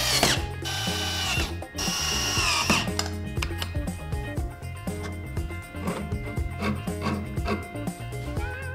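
A tiny 3.5 cc nitro engine fitted to a bicycle runs with a loud, high, buzzing whine up close. Its pitch surges and drops in repeated bursts as the throttle is opened and eased.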